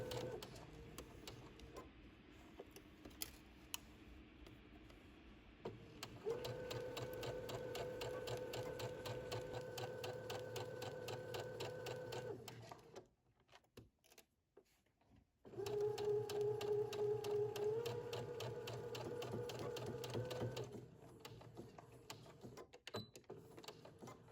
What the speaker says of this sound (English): we're just going to sew a stitch all the way around